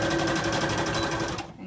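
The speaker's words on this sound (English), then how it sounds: "I'm going to sew a perfectly straight line" A domestic sewing machine stitches a straight seam on trousers being lengthened, a steady rapid mechanical whirring with a regular needle rhythm that runs loud and close before stopping abruptly near the end.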